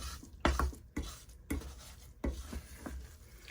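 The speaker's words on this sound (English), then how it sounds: "return it to low heat and stir it until it melts" A spoon scrapes and clinks against a pot as a homemade pouring medium is stirred over low heat, giving a few distinct soft knocks spaced by quiet swirling, faint and close, with no speech.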